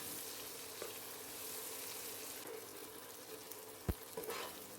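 Chopped ingredients for an anchovy masala fry sizzle steadily in hot oil, a continuous close frying hiss with a few light stirring knocks and spatters near the end.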